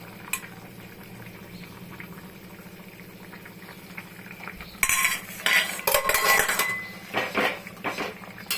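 Bitter gourd and drumstick broth bubbles in a pot at a low, steady simmer, then metal utensils clatter and clink against the pot in a busy burst of stirring and scraping over the second half.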